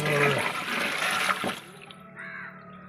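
Water splashes and gushes onto a hard surface, running in a broad rushing burst for over a second before tapering off into quieter trickles.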